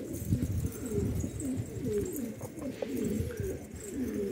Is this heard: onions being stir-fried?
no